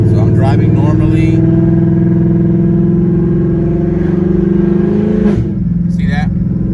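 A Ford Mustang drives along at steady speed, its engine a loud continuous drone heard from inside the car, with a brief shift-like dip near the end and people talking over it.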